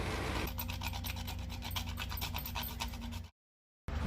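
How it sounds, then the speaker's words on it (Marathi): Nutmeg being grated for a Goan ragi pudding, a quiet, steady rhythmic rasping of quick strokes close by, stopping abruptly before a short silence at the end. "जायफळ किसून घालपाक जाय।"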